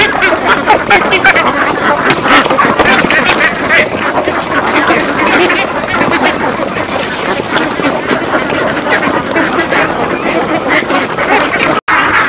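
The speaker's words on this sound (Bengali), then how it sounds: "এই দেখুন আমার হাঁসগুলো নিমিশেই খাবারগুলো খেয়ে শেষ করে দিল।" Ducks quack loudly and continuously as a flock eats low-cost feed, a dense overlapping chorus of quacks up close with no talk over it.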